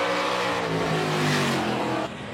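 A McGregor Series race car's engine roars at sustained high revs during the 2019 GP3R event at Trois-Rivières. It is loud and continuous, with a steady buzzing drone that eases off slightly near the end.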